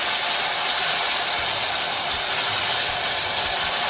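Curry for potato channa frying in hot oil, a loud, dense, continuous hiss that holds steady throughout, with no talking.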